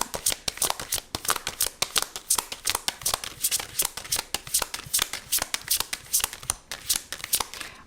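A deck of tarot cards being shuffled close up, with rapid crisp riffling bursts and slaps repeating steadily throughout, no voices.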